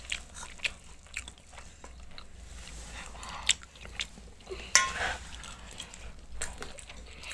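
Close-up eating of a Korean dumpling, tuna and rice bowl with sesame oil, with soft wet chewing and occasional crisp bites recurring through a quiet room.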